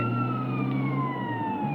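An ambulance siren from GTA San Andreas wails in a slow descending tone over a low engine hum, steady and fairly faint, with no talking.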